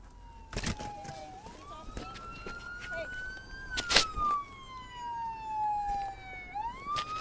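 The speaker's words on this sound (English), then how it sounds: "let's get those sirens off" A police siren wails continuously, its tone sliding slowly up and down, with sharp clatters and bumps cutting in over it, heard during a police incident in Colorado Springs.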